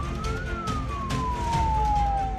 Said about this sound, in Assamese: মাজবাটত আবদ্ধ হৈ ৰ'ল এম্বুলেঞ্চ অভাৱনীয় যান জঁটৰ বাবে